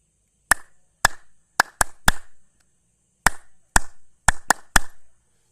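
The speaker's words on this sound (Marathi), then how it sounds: "बरोबर, टाळी व्यवस्थित वाजली" Two hands clap sharply and close by in a 1-2-1-2-3 rhythm, played twice: two spaced claps, then a quicker triplet, with a short pause between the groups.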